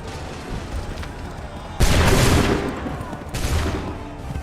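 Musket fire in Assassin's Creed 3 Remastered erupts as one sudden, loud volley with a long echoing tail, and a second, smaller burst of shots follows a moment later.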